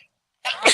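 A single loud, close sneeze bursts out after a near-silent pause, sharp at onset and then trailing into a breathy rush.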